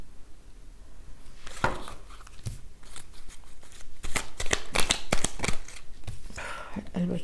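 Oracle cards being shuffled by hand, a run of quick papery riffles and slaps that grows busier toward the end, close and clear.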